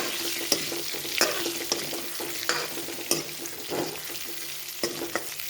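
Stuffed eggplants fry in oil while a spatula turns them, a constant sizzle punctuated by regular sharp scrapes and knocks against the pan.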